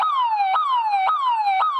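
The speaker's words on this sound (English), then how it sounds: "So if the floodwater gets high enough, the alarms and lights will start going off." A River Sentry flood warning tower sounds its alarm siren, a loud, close wail repeating roughly every half second, each cycle falling in pitch before snapping back up, with no talk.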